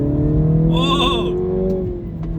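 Mini Cooper S 2-door car accelerating on a curvy road, a steady rising engine drone heard from inside, with a brief shout over it.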